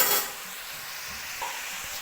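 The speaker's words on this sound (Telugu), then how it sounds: "మొత్తం ఆయిల్లో మిక్స్ అయ్యేటట్టు ఫ్రై మొత్తం కలుపుకోవాలి." Chicken frying in oil while being stirred, a continuous bright sizzle with a few soft scraping stirs, close and steady with no voices.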